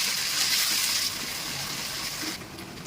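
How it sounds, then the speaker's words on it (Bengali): Water poured from a rinsed blender jug into a cooking pan of dried-fish curry, a steady gushing splash for about two seconds with a brief brighter spill at the end. "এই যে জগটা ধুয়ে একটু পানি দিয়ে দিলাম"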